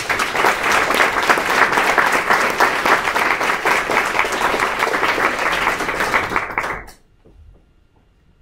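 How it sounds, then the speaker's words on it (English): A room full of people at a tech meetup gives a round of applause for the organizers; dense, steady clapping runs loud for about seven seconds, then stops abruptly into near silence. "So just a round of applause for these guys."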